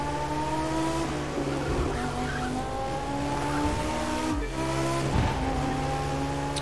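A motorcycle in the racing video game The Crew 2 accelerates hard, engine pitch climbing in repeated rising sweeps as it shifts through gears, loud and close with a faint tire screech and no speech.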